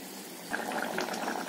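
Fish curry made with catla bubbles in a pot, a soft, faint, steady simmering fizz with small popping bubbles throughout the short stretch.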